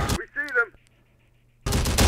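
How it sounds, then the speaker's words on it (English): A Humvee-mounted minigun fires in the Terminator Dark Fate: Defiance game, a dense loud burst arriving in the last half second after a quiet gap, with a short spoken phrase earlier. "Listen to that minigun."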